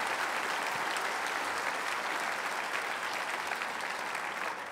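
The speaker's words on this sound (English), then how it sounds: "I want all of us to give a big round of applause of gratitude to the Lannan Foundation" Steady, dense applause from a talk audience in Santa Fe, many hands clapping at once and holding a constant level from start to finish with no voices rising above it.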